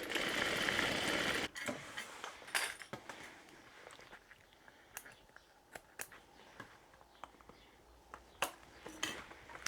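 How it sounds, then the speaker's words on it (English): A sewing machine runs a reinforcing row of stitches on a tote bag: a brief loud buzz of stitching at the start, then scattered clicks and handling taps at close range. "Now I also stitch another row just on the inside of that,"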